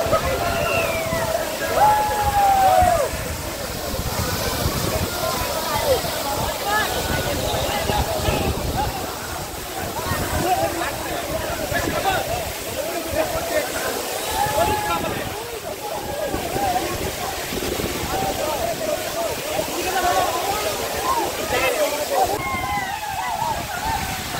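Waterfall in Tripura, a continuous broad rush and slosh of falling water heard close by, steady throughout with no talking.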